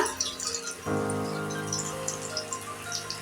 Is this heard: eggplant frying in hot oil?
yes